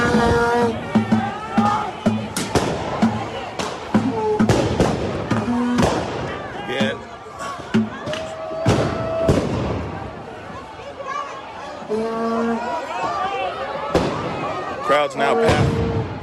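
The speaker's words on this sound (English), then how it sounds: "Several explosions heard over here now by the East Precinct." Explosions go off near the East Precinct during a street protest, with sharp loud bangs repeating irregularly among crowd noise, shouting, whistles and a passing vehicle, and a voice speaking briefly.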